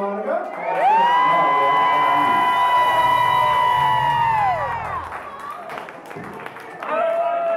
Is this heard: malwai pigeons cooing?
no